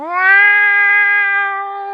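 A person imitates a cat's meow on a mountainside, giving one long, drawn-out, tonal mew that holds steady and fades slightly, loud and close with no other sound around it.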